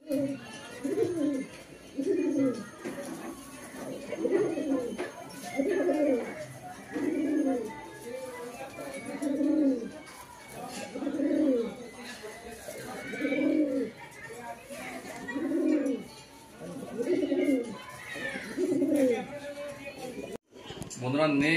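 A breeding pair of Andhra pigeons coos in a repeated rhythm, with throaty bursts roughly every second or two, close and clear.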